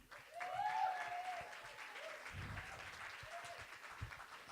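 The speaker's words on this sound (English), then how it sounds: "Can we have another round of applause for Aisha?" An audience at a spoken word poetry night applauding a poet, a faint, sustained patter of clapping mixed with scattered cheers and voices.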